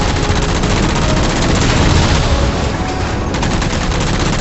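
Sustained heavy gunfire in Halo 4 aimed at shooting down jammers, a dense continuous barrage of rapid shots and booms, loud and close throughout with no talking.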